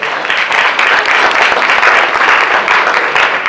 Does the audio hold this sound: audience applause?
yes